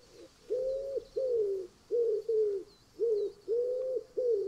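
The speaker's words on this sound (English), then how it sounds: "I love the sound of wood pigeons so much." Wood pigeon cooing in a steady series of soft, hollow calls, loud and close, repeating in short rhythmic phrases with brief pauses, heard alone over faint background ambience in a wildlife adventure game.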